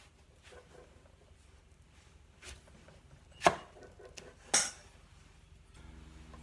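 A knife cutting through a melon on a board, a few sparse, quiet thuds and clicks spread out with near silence between, no talking.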